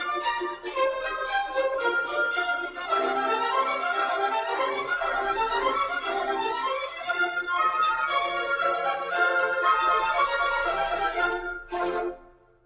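A sustained orchestral passage with layered strings and winds moving steadily forward, full and continuous, then thinning out abruptly near the end.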